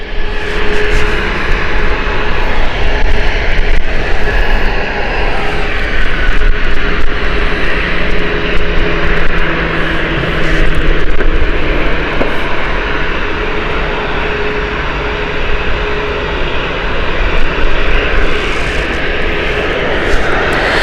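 A TAP Embraer jet departs Gatwick Airport, its engines giving a loud, steady roar that holds for about twenty seconds without letting up.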